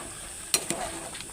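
Broiler chicken meat stirred in a cooking pan, a short scrape and clatter of the utensil over a soft background sizzle.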